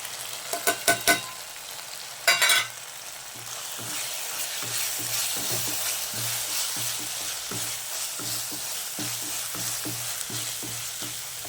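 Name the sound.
egg rice with masala frying in a pan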